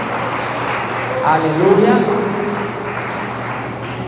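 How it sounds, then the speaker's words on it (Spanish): A church congregation claps loudly in a steady, dense wash of applause across the whole stretch, with voices calling out over it. "Con un fuerte aplauso pueden tomar asiento"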